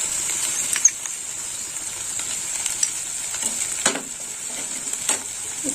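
Cashew paste is stirred into a hot pan for a drumstick (data) curry, a steady oil sizzle running throughout with soft scraping stirs and a few light utensil taps.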